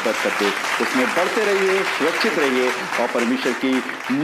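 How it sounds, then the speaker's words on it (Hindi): A congregation gives loud applause in praise of God at a Christian gathering, with the steady clapping running underneath a man's continuous speech. "आइए खुदावंद के लिए जोरदार तालियां बजाएंगे।"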